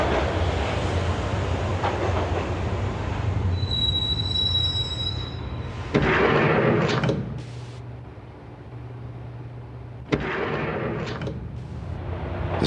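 Train ride in the video game Max Payne: a loud, steady subway rumble with shrill wheel squeals near the start and two bursts of clattering rail noise later on, heard close with no talk.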